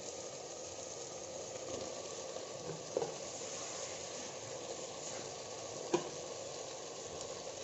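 Chopped banana flower frying in hot oil for a chicken dish, a steady close sizzle with a couple of faint clinks of stirring.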